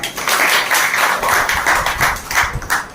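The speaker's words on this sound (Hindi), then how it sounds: "एक बार जोरदार तालियां होनी चाहिए।" An audience at a retirement function claps loudly for an honored guest's father: dense, sustained crowd applause with rhythmic clap peaks, close and steady for the full stretch.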